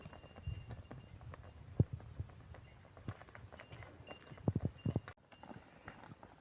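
Bulls' hooves clop along a grazing path in rural Konkan countryside, a series of irregular soft knocks and scuffs, near and moderately quiet, with a couple of louder clustered steps toward the end.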